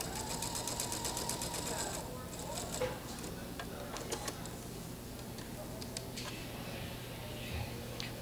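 A sewing machine stitches the final seam of a pieced quilt made with a polygon tool, giving a steady whirring run of rapid mechanical ticks that eases into lighter clicks and handling sounds.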